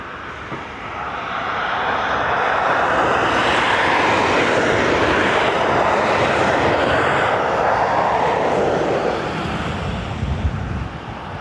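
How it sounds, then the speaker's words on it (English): Airbus A320neo, four years old, roaring past at an airport, a broad engine roar that swells over a couple of seconds, holds loud and steady, then slowly fades. "A320neo. It's 4 years old."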